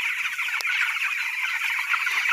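Farm chicks being chased make a dense, continuous chorus of high cheeping and clucking nearby, with one brief knock early on and no talking.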